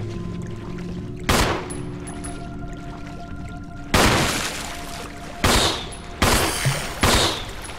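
Gunfire in Resident Evil HD Remaster: several loud, sharp shots, one single report, then a cluster of closely spaced blasts, each with a short ringing tail, over a low steady game hum and no talk.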